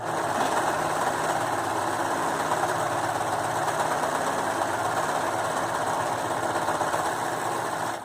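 A serger overlock sewing machine runs fast and steadily, stitching and trimming the edge of a pillowcase, with a dense, continuous motor whir and a rapid stitching chatter that stays close and even throughout, with no talking.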